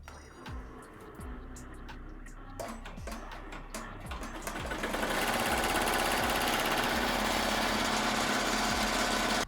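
A sewing machine stitches through thick quilt batting with the presser foot raised to its highest setting. Sparse mechanical thumps come first, then a steady, fast motor whir runs on, close and continuous.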